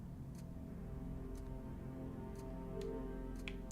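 Clocks ticking in the video game Enigma of Fear: faint, evenly spaced ticks about once a second over a constant low hum.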